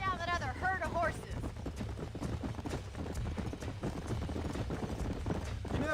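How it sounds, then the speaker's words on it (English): Horse hooves clip-clop in Red Dead Redemption, a steady rhythmic gait running throughout under speech, with a brief whinny at the start. "Let's see if we can track down that other herd of horses."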